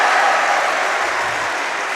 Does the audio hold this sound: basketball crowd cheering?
yes